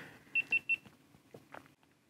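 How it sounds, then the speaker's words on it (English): A GoPro Hero 11 camera gives three short, evenly spaced high beeps after a firmware update, close and clear, followed by faint handling clicks and quiet room noise. "that beep is a good sound"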